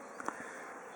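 Honeybees in an open hive during an inspection hum in a quiet, steady drone, with a couple of faint closer buzzes at the start.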